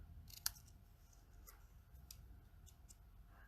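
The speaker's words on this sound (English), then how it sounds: "I'm just going to use my paper snips." Paper snips cut paper for a handmade card, a sharp close snip near the start followed by a few softer, faint clicks of the blades in a quiet room.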